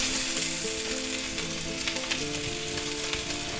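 Butter sizzles and crackles steadily on sous vide pork chops in a hot pan, a dense close frying hiss with faint tonal hum underneath and no talk.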